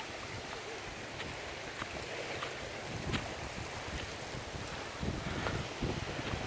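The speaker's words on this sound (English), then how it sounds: "you can hear the water because it's fairly windy" Wind-driven water laps and splashes softly under a constant windy rush, with occasional small slaps against the shore.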